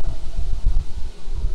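Steady low rumbling wind buffets the microphone, gusting unevenly with a faint rustle throughout.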